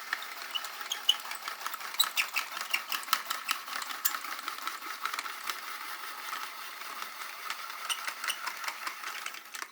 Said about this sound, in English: You just pop it in and then you spin it.